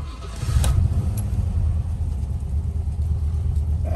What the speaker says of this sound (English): quick video of start up and idling on this P5b coupe